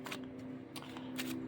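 An oracle card deck being shuffled by hand, a quiet run of soft riffling and slapping card bursts in quick succession, close and alone.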